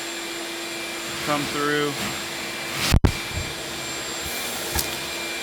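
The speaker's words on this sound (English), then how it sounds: "I hit the vacuum right here." A vacuum cleaner sucks up broken glass from a burnt Ferrari 360 in a garage, a loud steady whine with a sharp rattling clatter midway as debris hits the nozzle. Someone speaks briefly over it.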